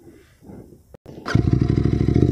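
Royal Enfield Continental GT 650 motorcycle engine starting up after quiet clicks and handling noises, then settling into a loud, close, steady throbbing idle with a rhythmic pulse.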